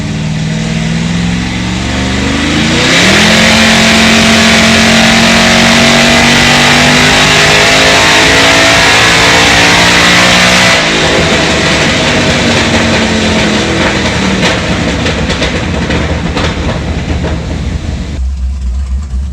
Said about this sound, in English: Putting his car in the trailer right now.